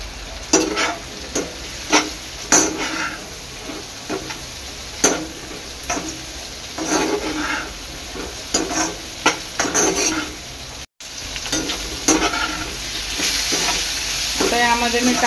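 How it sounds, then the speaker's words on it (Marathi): Soybean chilli being sautéed in a pan, a continuous sizzle broken by repeated spatula scrapes and stirring knocks at close range, with a brief dropout partway through. "चांगलं परतून घ्यायचं आहे।"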